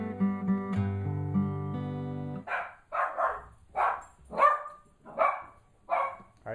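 A dog barks six times in a steady, evenly spaced series at close range after a stretch of sustained tonal music, each bark loud and clear with no talking over it.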